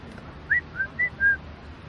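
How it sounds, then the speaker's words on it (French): Outdoors, a bird gives four short, clear whistled chirps in quick succession, faint and somewhat distant over a low ambient background hum. "T'entends les oiseaux?"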